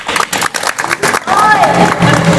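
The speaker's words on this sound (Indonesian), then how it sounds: "Tepuk tangan dulu." A crowd at a club's Independence Day competition claps in quick, loud bursts that swell into sustained cheering and clapping.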